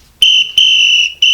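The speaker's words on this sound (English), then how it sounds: "Blow the whistle." A whistle blown in three sharp, shrill bursts, each a steady piercing tone with a short gap between, loud and close with no talk over it.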